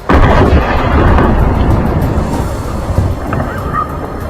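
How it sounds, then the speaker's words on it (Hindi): A loud, deep rumbling blast from an American strike at night, rolling on and slowly fading, with heavy low-end roar and no voices. "अमेरिकी हमले के बाद जोरदार विस्फोट होता दिखाई दिया।"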